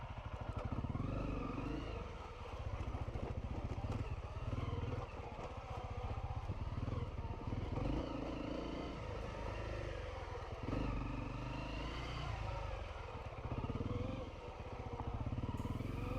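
Motorbikes racing along a woodland trail, a continuous rough engine drone with fluctuating revs and rumble throughout, close and steady, with no pause.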